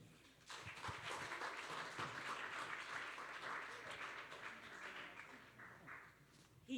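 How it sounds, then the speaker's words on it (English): A conference audience at a Detroit event gives a warm round of applause, steady moderate clapping from a crowd heard at some distance, holding evenly for several seconds before tapering slightly. "So I'd like you to give a warm round of applause to Benita von Maltzen."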